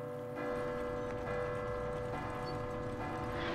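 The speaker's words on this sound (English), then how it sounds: "Ringing the bell in the zombie apocalypse." A bell rung in the Resident Evil 2 video game, sustained resonant tones ringing and overlapping, with faint repeated strikes under the steady hum.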